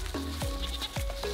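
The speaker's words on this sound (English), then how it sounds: "Baby goat." A baby goat bleats repeatedly, several short wavering cries close by on a farm with other livestock around, no talk over it.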